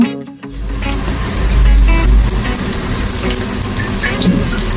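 Two medium sliced onions fry in a pan for a chicken curry, making a loud, full, continuous sizzle with a low rumbling undertone that starts abruptly and holds steady to the end.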